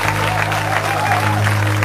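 Audience applause in a church gathering, a short burst of steady clapping under a low sustained hum, a voice briefly heard.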